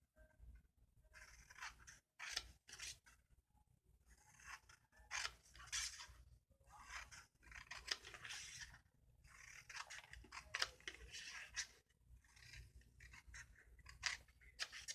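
Scissors snip through small paper flaps on a hexagon craft piece, giving close, quiet, crisp cuts in irregular bursts with short rustling pauses between them.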